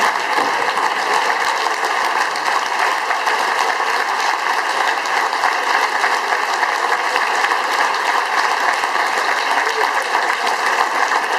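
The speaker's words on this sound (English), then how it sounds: "Let's give a round of applause for Joann" An audience at an event breaks into sustained applause, a dense, even roar of many hands clapping that holds steady throughout without anyone speaking over it.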